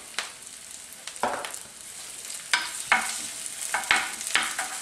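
Garlic goes into a pan with pre-fried onion, bursts of frying sizzle rising with repeated stirring scrapes and clatter, close and moderately loud, with no talk.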